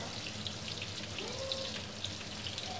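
Onions and green chilies fry steadily in hot oil, a continuous crackling sizzle with scattered pops, moderately close, with no one talking.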